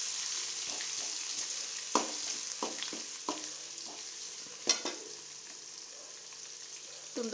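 Onion and green chilli sauté in hot oil for vermicelli upma, a steady close sizzle punctuated by several sharp stirring scrapes and clinks of a spoon against the pan.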